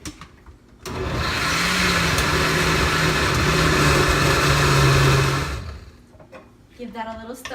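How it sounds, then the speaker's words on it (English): A kitchen blender purees beans for chicken tinga, a loud steady motor whir running for several seconds after a brief start, then cutting off and leaving a quieter tail with faint voices. "put them in our blender."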